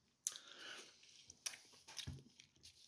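Close crunchy bites and chewing of Cinnamon Toast Crunch cereal, a few crisp crackles and soft mouth sounds spaced across a quiet few seconds, with no talking.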